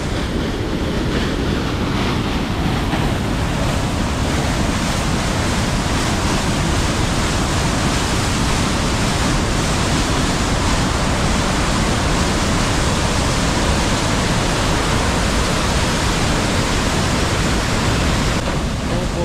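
A waterfall at Edessa pours with a loud, unbroken roar of rushing water that stays even throughout, heard close up.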